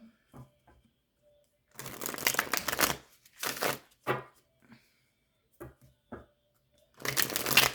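Tarot cards are shuffled in several short bursts of riffling and flicking, separated by quiet pauses and light handling taps.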